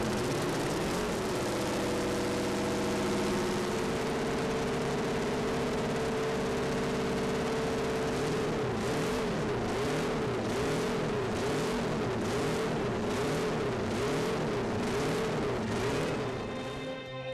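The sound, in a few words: Honda RC160 four-cylinder race motorcycle engine running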